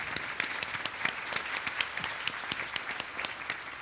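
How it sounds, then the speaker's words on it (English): An audience at a privacy quiz show event applauds, a steady patter of many hands clapping at moderate distance for a few seconds. "Big round of applause for Brant Homan"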